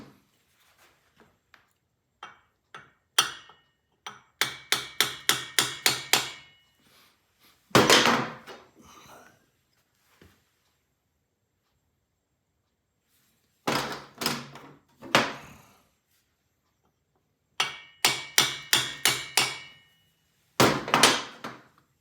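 A hammer taps a part into place on a vintage British motorcycle under repair, sounding as clusters of sharp metallic blows in quick bursts separated by pauses, close and fairly loud, with no talk.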